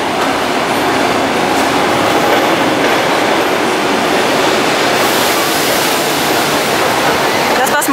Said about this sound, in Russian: все тот же знакомый поезд красненький, Аэроэкспресс